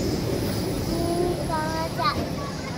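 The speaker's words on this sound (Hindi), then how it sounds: "कहाँ जाती है ये, एक मेट्रो जा रही है" A Delhi Metro train passing, a steady rumbling rail roar with rising tonal whines partway through, heard outdoors with faint traffic and voices in the background.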